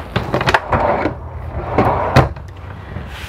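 Drawers and cabinet doors in a 2020 Tiffin Allegro 34 PA motorhome slide and bump shut, giving several close, sharp knocks and rattles spread unevenly across a few seconds in a quiet interior.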